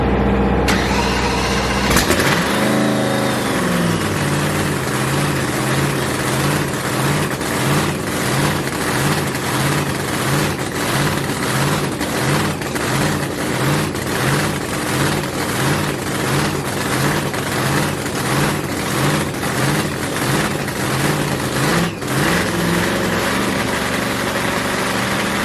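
A screw-blower drag race car engine fires up at a test session and runs loud and close, a heavy, rhythmic, choppy idle that pulses steadily for over twenty seconds with no talk over it.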